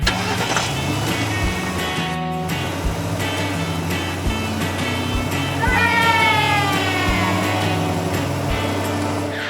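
A cartoon family car, Peppa Pig's, starts and drives off with a steady, loud engine hum and regular low thumps, and a brief rising tonal sound partway through.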